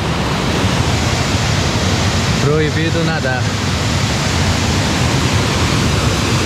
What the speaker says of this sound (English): So this waterfall is called Suspiro.